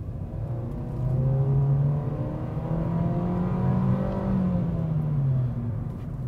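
Muffled engine drone inside a Nissan Versa Exclusive under hard acceleration, a steady low hum that rises and falls in pitch as the car speeds up, heard alone with no talking throughout.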